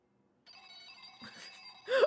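A telephone rings with an electronic, tonal ringtone that begins after a moment of silence and holds steady and moderately loud, ending with a brief louder burst of sound.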